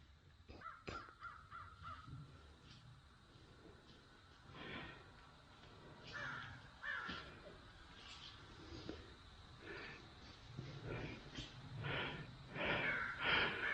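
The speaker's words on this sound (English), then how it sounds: "Crows. Crows?" Crows cawing outdoors over open land near cliffs, a series of harsh caws at varying distances, some sharp and close, others fainter, scattered across a quiet background.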